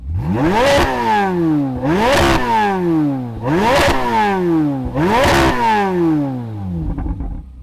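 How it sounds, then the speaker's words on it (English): A Ford GT or Corvette Z06 sports car engine revs hard four times in a row, each rise climbing then dropping back, loud and close with a rasping growl. "then you can start revving it up"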